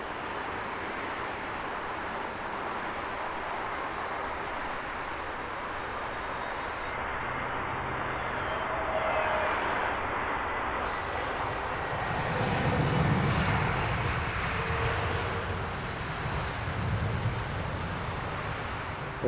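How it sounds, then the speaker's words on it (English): An Aer Lingus airliner landing at Heathrow Airport, a broad jet engine roar that swells midway and stays steady, distant to moderate over outdoor wind noise, no talking. "Aer Lingus providing us with our first floaty landing of today's show"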